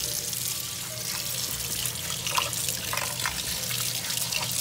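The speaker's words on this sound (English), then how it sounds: "I have my rice here. I'm gonna give it a wash." Rice for Jamaican gungo rice and peas is washed by hand in water, giving a close, continuous swishing and trickling with small splashes as the grains are rubbed together.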